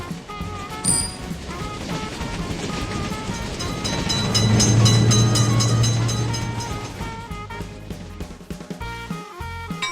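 A game train crosses a level crossing, building slowly to a loud, sustained rumble at its middle and then easing off into scattered clatter and clicks.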